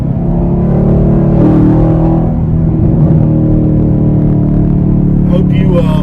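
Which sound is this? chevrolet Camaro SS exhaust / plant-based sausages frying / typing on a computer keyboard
chevrolet Camaro SS exhaust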